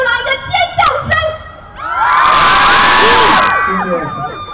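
A crowd of fans at an outdoor album signing event in a park in Tainan bursts into loud, sustained screaming and cheering after a few moments of background music and chatter, then fades slightly.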